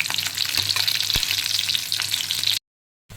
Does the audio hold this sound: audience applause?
no